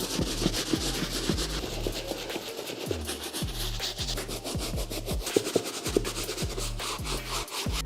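Brush scrubbing across the leather uppers of a Nike Air Jordan 1 Bordeaux sneaker with cleaning solution, a steady run of close, rhythmic rubbing strokes under a low repeating hum, with no talk.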